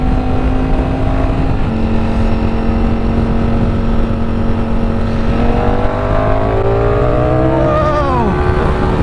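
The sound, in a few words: Ducati Streetfighter V4S motorcycle accelerating hard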